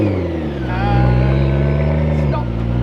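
A Subaru car drives past close by, its engine note rising and swelling into a loud, steady drone before cutting away abruptly near the end, with voices in the background.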